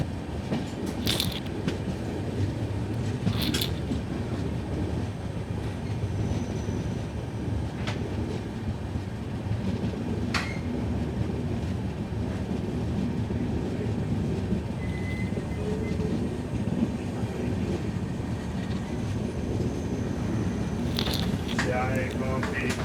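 Venad Express train running along the Kottayam line in Kerala, heard from inside the coach as a steady loud rumble of wheels on rails with occasional sharp clicks and brief squeals, with voices talking over it.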